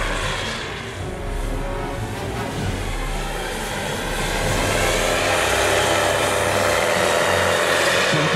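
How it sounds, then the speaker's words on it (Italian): Engine of a radio-controlled UH-72 Lakota model helicopter in flight, a continuous loud whining roar with a steady low drone from the rotor and exhaust, swelling slightly louder toward the end, with no voices. "Sentite il rumore del motore, dovuto specialmente agli scarichi che sparano"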